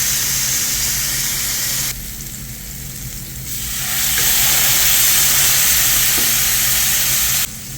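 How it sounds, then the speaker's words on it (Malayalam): Salmon pieces, including belly portions, frying in a pan, a steady close sizzle and hiss that dips briefly then swells louder with spattering, no talk over it. "സാമൺ അങ്ങനെ ഫ്രൈ ആയിക്കൊണ്ടിരിക്കുകയാണ്"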